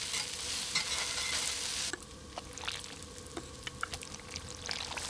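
Food frying in hot oil, a loud dense sizzle that drops sharply partway through into quieter crackling pops and spits, close and alone.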